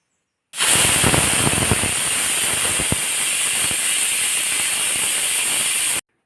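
A pressure cooker lets out a loud, continuous steam whistle that starts abruptly, holds a sustained hissing shriek for about five seconds, then cuts off sharply.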